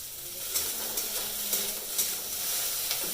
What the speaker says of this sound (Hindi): तो ये ईशान का भिंडी फ्राई हो रहा है।